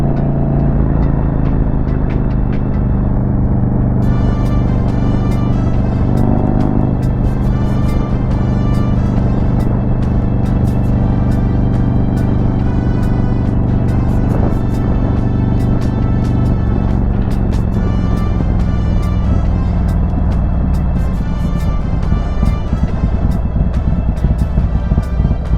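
Harley-Davidson motorcycle fitted with an HPI throttle body and intake manifold, engine rumbling loud and steady on a test ride as it accelerates, with revs rising and wind noise throughout.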